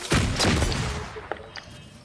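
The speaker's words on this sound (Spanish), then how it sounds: "¿Alguien me puede explicar por qué todos los disparos van hacia mí?" Gunfire in the Fortnite video game, a quick flurry of heavy shots and thuds up front followed by a few fainter scattered bangs, loud and close with no talk over it.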